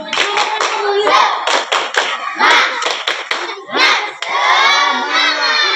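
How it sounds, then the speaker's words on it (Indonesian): Schoolchildren in a combined class of fourth and fifth graders clap a rhythmic patterned cheer together, loud sharp claps in quick sequences, followed by a sustained group shout. "Sekali lagi tepuk semangat."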